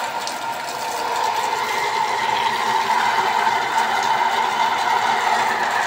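Automatic water pump with pressure switch and pressure tank running as water flows strongly: a steady mechanical hum with a rushing, hissing flow that swells slightly after the first second and holds constant, close and alone.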